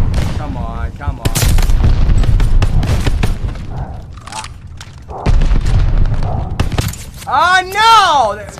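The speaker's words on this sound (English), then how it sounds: "That was my fucking ball turret again." Ball turret gunfire rings out in Vanguard as several loud, sharp booming bursts, with a voice talking excitedly over and between the shots.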